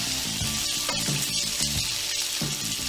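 Close, loud sizzling of bacon on a Blackstone 22 inch flat-top griddle, a constant crackling hiss punctuated by a few soft thuds and scraping sounds.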